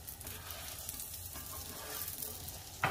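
Batbout dough fries in hot oil in a pan, a steady soft sizzle holding throughout, capped by a brief louder clatter near the end.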